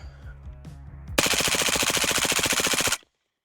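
A suppressed MP5 SD submachine gun fires one sustained automatic burst of roughly two seconds, rapid evenly spaced muffled reports, and then stops abruptly. A tonal, musical sound plays before the burst.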